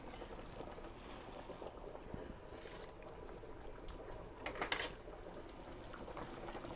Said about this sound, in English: it needs to come to full temperature and boil to get it to the gravy consistency